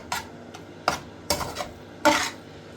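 Egg keema of grated boiled eggs being stirred in a pan, with four or five distinct metallic scrapes and clinks of the spoon over a faint sizzle.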